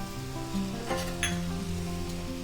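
Neem flowers sizzling as they fry in hot ghee for vendaya kuzhambu, a steady crackling hiss with a brief louder spatter burst partway through, close and continuous with no talking.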